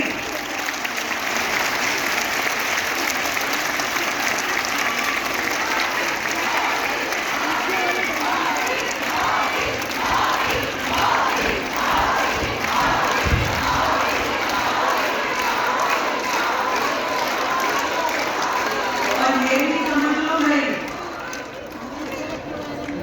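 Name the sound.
crowd applause at a political rally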